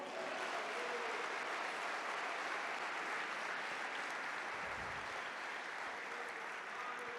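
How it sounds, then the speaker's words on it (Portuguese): Church congregation applauding together, a steady, sustained wash of clapping that fills the room at a moderate distance and holds evenly for several seconds without letting up. "Você pode aplaudir o nome do Senhor?"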